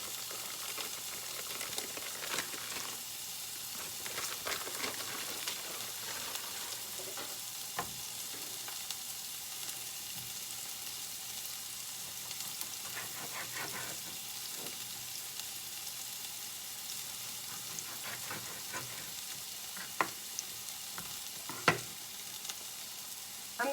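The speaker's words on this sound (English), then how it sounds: "While the onions are browning, or getting translucent" Onions and chopped Italian sausage with casings left on sizzle steadily in a pan, a continuous close frying hiss broken by occasional stirring clicks and scrapes, with no talking.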